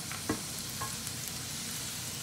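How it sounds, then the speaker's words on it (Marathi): Chopped onion, capsicum and green chilli frying in a little oil in a pan, a steady close sizzle with a couple of faint scrapes from stirring, and no voices. "आणि आता ह्या ज्या भाज्या चिरून घेतल्यात त्या थोड्याशा तेलावरती आपल्याला फक्त फ्राय करून घ्यायच्या आहेत"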